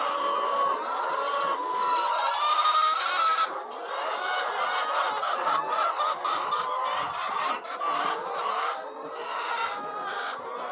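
Poultry chickens on a farm clucking and calling steadily, several birds overlapping at moderate distance with no talk.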